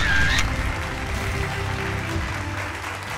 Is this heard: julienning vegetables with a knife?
no